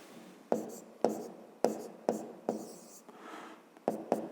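Pen strokes writing numbers by hand on paper during a fifth-grade arithmetic exercise, heard as a series of sharp, close scratchy taps and short scribbles, roughly eight strokes, with no talking.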